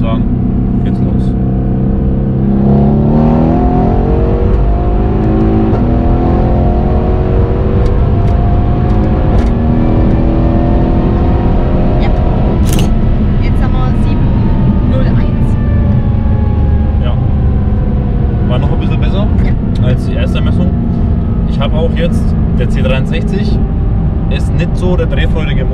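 A Mercedes C63s AMG C205 accelerates hard from 80 km/h, its engine loud and close as revs climb and shift, with a person talking over the roar inside the car.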